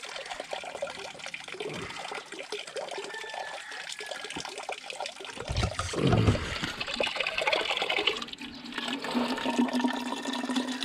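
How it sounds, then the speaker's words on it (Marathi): Spring water flowing down from the hills through jungle and rock ledges on a Konkan cycling route near Guhagar, a steady close rush and trickle that swells louder partway through, with no talk. "हा पूर्णपणे असं डोंगरामधून आलेला हा झरा"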